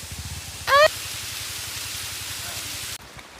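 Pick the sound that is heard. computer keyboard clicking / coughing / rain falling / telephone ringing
rain falling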